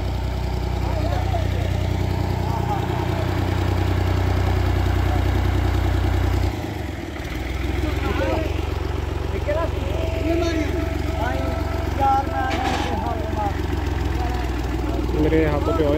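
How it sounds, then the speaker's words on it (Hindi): Tractor engine idling just after starting, a steady close low rumble that runs throughout with a brief dip midway, while people talk over it. "स्टार्ट हो गया जी ट्रैक्टर हमारा"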